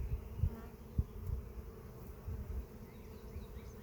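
Honeybees buzzing around an open frame pulled from a nucleus hive, a steady close swarm hum with scattered handling bumps and no talking.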